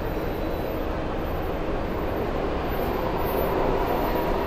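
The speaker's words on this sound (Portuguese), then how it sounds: "A estação de metrô aqui é bem grande" Subway train rumbling steadily through a large metro station, a broad continuous roar that holds loud and even throughout with no voices.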